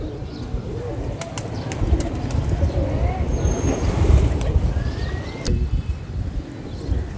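A pigeon coos close by in low, repeated throaty calls over a rumbling background, with people talking faintly nearby.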